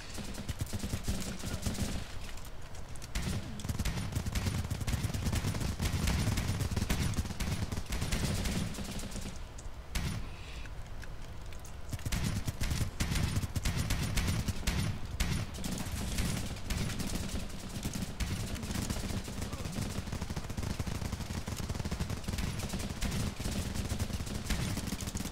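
Sustained automatic gunfire in the video game Running with Rifles, with a FAMAS assault rifle among the weapons, loud dense bursts and fusillades continuing almost without pause, a short lull near the middle, with some faint talk.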